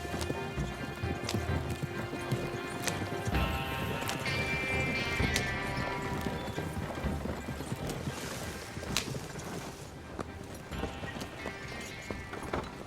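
Horse hooves clip-clop steadily as a horse-drawn wagon rolls along in Red Dead Redemption 2, with an occasional whinny over a busy, continuous game soundscape.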